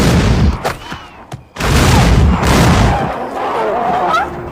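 Heavy gunfire in a monster film as two men shoot at a small, eyeless, beetle-like creature: dense crackling bursts that briefly stop, then resume at a steady roar with scattered whistling tones.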